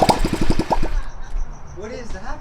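A Honda Ruckus 50cc scooter runs with no exhaust fitted, giving rapid, loud popping putters close by that fade into a rougher idle while people talk over it.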